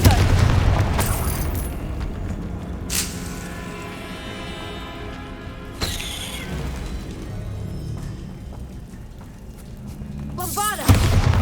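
In Hogwarts Legacy, the Confringo blasting spell fires off as several sharp, loud bursts spaced through a steady rumble of game combat, with a voice speaking between the hits.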